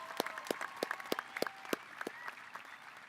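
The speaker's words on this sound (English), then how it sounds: "One big round of applause, please." Scattered, thinning applause from a high school graduation ceremony audience, individual claps standing out sharply as the clapping tapers off across a few seconds.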